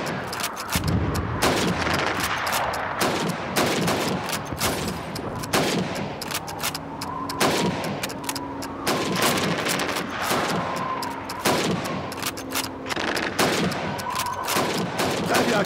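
Rifle fire from Call of Duty 2 as shots are aimed at helmets on a firing range: repeated sharp gunshots at an irregular pace over about fifteen seconds, loud and close, over steady battle ambience with faint tones.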